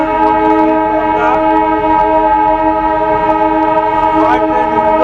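The Darjeeling toy train runs along its mountain railway near the Batasia Loop, with a loud, sustained whistle of layered steady tones over rumbling wheels and brief sliding pitch bends.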